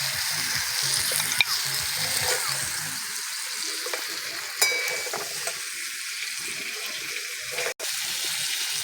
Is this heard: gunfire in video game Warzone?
no